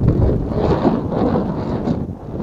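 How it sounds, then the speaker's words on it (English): Strong wind on a golf course buffets the microphone in a steady, loud low roar with gusty surges, no voices. "It's so windy."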